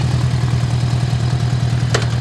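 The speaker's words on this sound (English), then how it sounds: "Fires right up, idles perfectly." A 1979 Honda GL1000 Goldwing motorcycle engine idles steadily, a loud, even low rumble held close by throughout, with a brief sharp click near the end.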